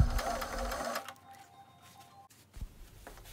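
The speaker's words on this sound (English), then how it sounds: "Begin to sew." A sewing machine stitching a clear plastic vinyl jacket rattles in a quick close burst for about a second, then quiets to faint background noise with a soft thump at the end.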